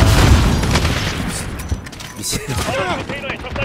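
Grenade blasts and gunfire in the video game Modern Warfare, with a heavy boom at the start followed by rattling shots and thuds, and voices talking over the action.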